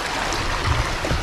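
Steady broadband rush of river water flowing beneath a bridge at a motocamping spot, continuous and fairly close with low rumbling swells and no voices.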